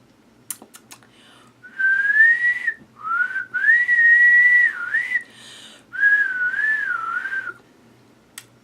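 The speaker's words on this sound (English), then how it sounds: "can you whistle?" A person whistles a melodic tune in three sustained phrases, close and clear in a quiet indoor room, with a few faint clicks before and after.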